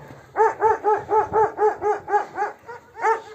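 A dog barks in a quick, steady series of about a dozen yaps, fairly close, with a brief pause before a final bark, on a snowy farm.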